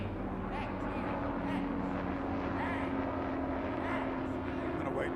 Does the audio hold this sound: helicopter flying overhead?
yes